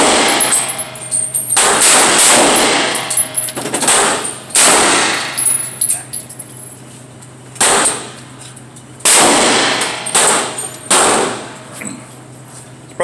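Shots from a 9mm handgun, a series of loud, sharp reports spaced a few seconds apart with ringing tails, close and alone, with no talk.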